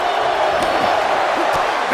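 Crowd cheering and roaring in a WWE 2K26 wrestling match, a steady dense arena roar throughout with a commentator's voice heard over it.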